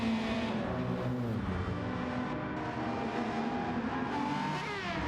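Gr.3 race cars at Red Bull Ring in a racing game, engines holding a steady loud whine with gear-change pitch sweeps near the end, close and continuous without talk.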